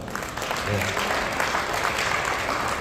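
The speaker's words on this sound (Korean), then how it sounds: "회장님 박수 한번 더 보내주십시오" Steady applause from a crowd at a Korean middle-school alumni general meeting and year-end party, sustained and fairly loud for about three seconds with faint voices mixed in.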